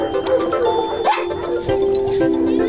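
A dog giving a few yips and short whimpering barks, close and loud over a steady background hum, with a brief tonal chime in between.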